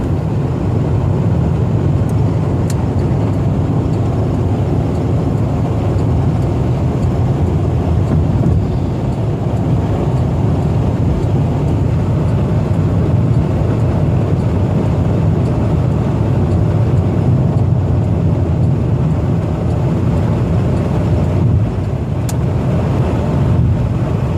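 Steady, loud road and engine drone inside a 1990 Cadillac Coupe DeVille cruising at 81 mph on the highway, a continuous low rumble with no talking.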